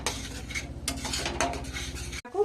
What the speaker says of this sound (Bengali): অল্প একটু জল দিয়ে নিচ্ছি এবার ভালো করে মিশিয়ে ভালোভাবে এটা কষিয়ে নেব